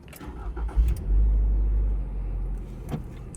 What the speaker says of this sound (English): to start the engine, just put your foot in the brake and push the button to start